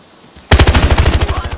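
Automatic gunfire in Battlefield Hardline: a loud, close burst of rapid shots starts abruptly after a short quiet lead-in and rattles on at an even rhythm to the end.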